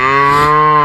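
A cow in a grassy pasture gives one loud, sustained moo that fills the whole moment, close and clear with strong, steady harmonics and no talking.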